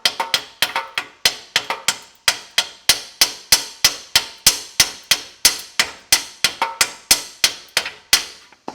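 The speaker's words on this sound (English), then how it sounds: "I hold one hammer right there to break it loose, and I'll take the other hammer" Two hammers striking a metal tip to break it loose, a long steady run of sharp ringing clangs, roughly three blows a second, close and loud with nothing else heard.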